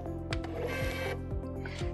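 A Dymo LabelWriter 550 label printer feeding labels: close, rapid rhythmic ratcheting and gear clicks of the feed mechanism, repeating evenly for a couple of seconds.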